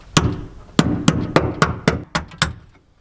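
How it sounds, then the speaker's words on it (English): Claw hammer striking and prying at a wall inside a shipping container tiny house during a mini split AC install, with seven sharp close knocks at a steady, slightly quickening rhythm, alone. "I didn't find a screwdriver, but I found a hammer with a claw on one end."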